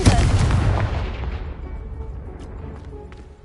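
A Confringo fire spell in Hogwarts Legacy blasts a pile of blocking debris, giving one loud, booming explosion that rumbles and slowly decays over a few seconds.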